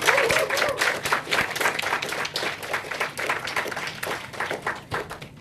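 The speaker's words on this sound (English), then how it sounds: "big round of applause to my team, please" A full audience breaks into sustained applause at the Girls 20 Summit 2013, many hands clapping densely and evenly for over five seconds with no voices on top.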